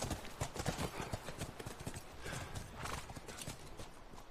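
Horse hooves clip-clop steadily in The Last of Us video game, a quick, even rhythm of fairly close hoofbeats with a brief neigh, running on without any speech.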